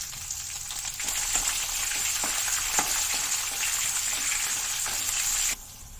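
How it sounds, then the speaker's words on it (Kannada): Dry red chillies, curry leaves and green chillies sizzle in hot oil, a bright steady frying hiss punctuated by stirring taps and crackles. The hiss cuts off abruptly near the end. "ಗೋಲ್ಡನ್ ಬ್ರೌನ್ ಆಗೋವರೆಗೂ ಫ್ರೈ ಮಾಡಿ"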